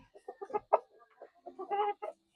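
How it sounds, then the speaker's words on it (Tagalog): A young Lavender Orpington hen that is ready to lay clucks in a run of short, uneven calls, ending in a longer warbling cluck, close and fairly soft. "At saka ito yung hen."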